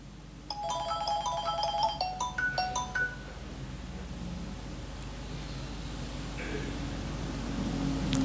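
A telephone ringtone plays a quick electronic melody of bright repeated beeps for a few seconds during an Islamic wedding sermon, then stops, leaving steady room hiss.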